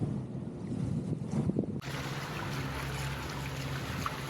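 Strong wind roars across the microphone while sailing on Long Island Sound, a broad rushing noise that surges louder midway and stays constant, with water sloshing faintly underneath.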